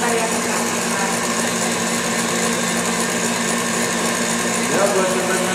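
An electric mixer whirs steadily and loudly while beating cake batter for a rose chocolate Valentine cake, holding a constant high hum throughout as people talk over it.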